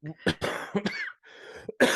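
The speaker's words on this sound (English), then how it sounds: "I've got a little lingering COVID cough a little bit" A person with a lingering COVID cough coughs several times in quick bursts, close to the microphone, with a short pause before a final harsh cough.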